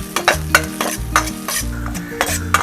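Chopped garlic and ginger sizzle steadily in hot oil, with a rhythmic scraping of a spoon stirring the pan up close.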